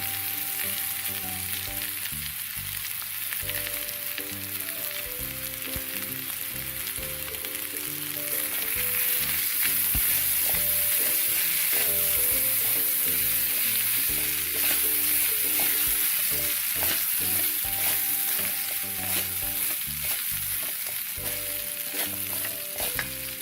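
Cooked rice stirred into frying masala in a pan for North Karnataka oggarane masala rice, a steady close sizzle with repeated scraping stir strokes throughout, no voices.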